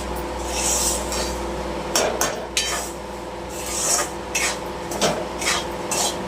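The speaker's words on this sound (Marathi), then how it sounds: "रवा आपला भाजत आलेला आहे" Semolina (rava) roasting in a pan, stirred with a spoon in steady gritty scraping strokes, with occasional sharper clinks against the pan, close and moderately loud, no voices.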